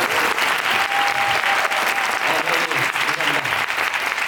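Sustained applause from a theatre audience at the curtain call of a Korean musical, dense steady clapping filling the hall throughout, with a faint voice briefly audible over it.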